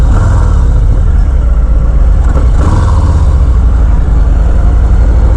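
A 2020 Harley-Davidson Fat Boy motorcycle engine idles and revs with a loud, deep, lumpy rumble, close to the microphone and continuous, with a brief swell in the middle.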